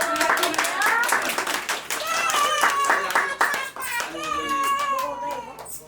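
Guests clap at a Korean first-birthday party, encouraging a shy father, while children's voices and adult chatter carry over the rhythmic, fairly close clapping throughout.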